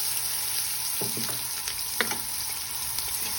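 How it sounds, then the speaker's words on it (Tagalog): Onions sizzle and fry in hot cooking oil in a pan, a steady close hiss interrupted by a few soft stirring scrapes, with no talking. "Nilagay ko na yung mantika. So start na tayo. Lagay natin yung sibuyas."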